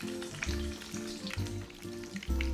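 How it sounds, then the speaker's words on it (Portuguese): Stuffed rabanadas, Brazilian French toast, fry in hot oil with a steady close sizzle and crackle, broken by a few low thumps and shuffles as pieces are moved in the pan. "E agora é só fritar essas rabanadas recheadas muito gostosas."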